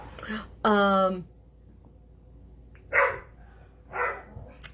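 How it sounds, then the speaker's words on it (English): Pet dogs at home bark while playing, a loud burst of harmonic barking followed by a couple of shorter, softer yips, nearby, with quiet stretches between. "So now my dogs are going to play."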